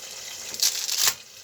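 Dry spaghetti goes into a pot of water, giving a short burst of crackly, splashy rustling that swells twice near the middle and then settles back to a soft background hiss.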